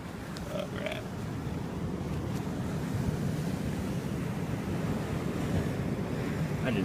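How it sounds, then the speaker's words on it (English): Seawater surges into a rocky tide pool, a steady rushing wash of surf with some wind noise on the microphone, close and continuous for several seconds. "Oh, water's starting to come in."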